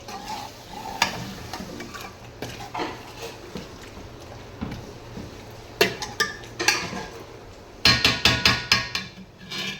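Chicken pieces being stirred and tossed with spices for biryani, producing a series of sharp clattering taps of a spoon against a metal pot, with rapid bursts of knocks toward the end.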